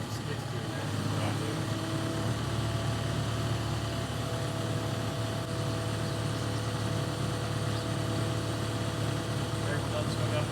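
A skid steer's engine runs steadily nearby during a stairwell demolition, a continuous low hum with a constant pitch lasting the whole stretch, while people talk over it.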